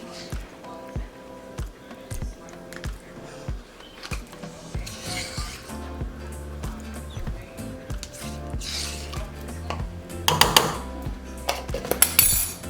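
A spoon stirs ricotta cheese into simmering pasta sauce in a pot, with intermittent scraping and knocks against the metal that grow more vigorous and louder toward the end, close and alone.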